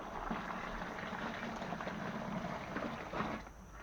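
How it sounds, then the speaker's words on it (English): Cold water pours steadily into a homebrew beer fermenter, a continuous, fairly quiet rushing and gurgling of liquid filling plastic, close by with no talk. "Now you start adding water."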